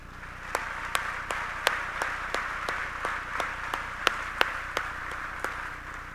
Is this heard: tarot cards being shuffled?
no